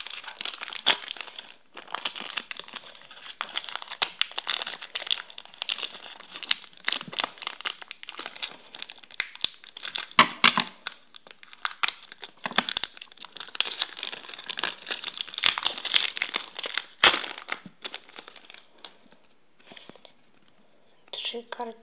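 Foil of a Champions League 14/15 Update Edition football card blister pack crinkling and tearing open: continuous close, dense crackling and rustling, with faint voices now and then.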